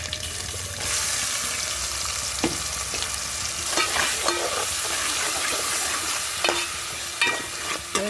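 Ginger-garlic paste sizzles steadily in a pan with onions and tomatoes, with repeated scraping stirs and a few sharp clinks of a spoon against metal, close and loud throughout, with no talking.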